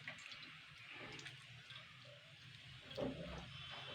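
Flour dough being washed in water by hand in a kitchen, a soft, steady wet sloshing and trickling with a brief louder splash near the end, close and quiet.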